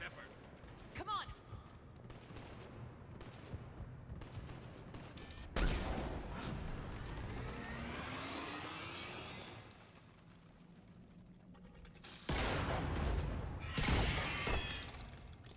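Bursts of sci-fi gunfire and weapon blasts from the Mass Effect 3 combat mission on Tuchanka, loud and dense in two stretches, with game characters talking over the action and sweeping electronic effects between volleys.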